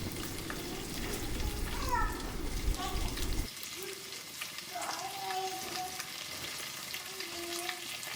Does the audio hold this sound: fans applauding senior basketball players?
no